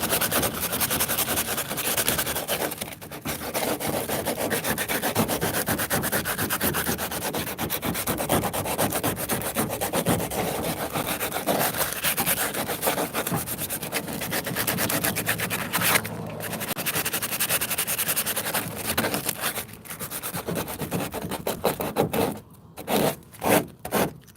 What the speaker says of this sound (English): let's sand it off